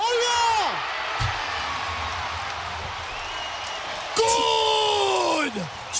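Basketball arena crowd cheering in a gym, a loud roar with whoops and yells that swells at the start, settles to a steady murmur, then surges again near the end, under a commentator's voice.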